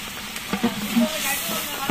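Food being stirred in a frying pan during a casual group cooking session, with a soft steady sizzle and a few scraping stirs, while people talk nearby.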